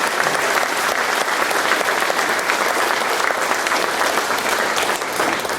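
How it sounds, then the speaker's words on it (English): Audience applause at a middle school spring concert, a loud, dense and continuous crowd of clapping that holds steady for several seconds, with a few faint voices under it. "Big round of applause."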